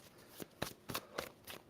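Tarot cards being shuffled by hand, four or five quick papery riffles and slaps spaced about a quarter second apart, faint and close with no talk.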